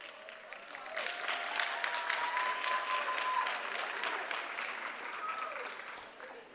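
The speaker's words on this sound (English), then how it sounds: "Can you stand and give yourself a round of applause?" Health sciences graduates stand and applaud at an oath taking ceremony, a full, even roar of many clapping hands that swells, holds steady and slowly tapers, with faint voices mixed in.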